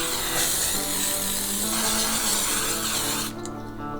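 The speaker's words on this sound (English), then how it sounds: "take your 9x13 baking dish and spray it down with the cooking spray of your choice" Cooking spray hissing in a continuous burst onto a 9x13 baking dish, loud and close, cutting off abruptly near the end.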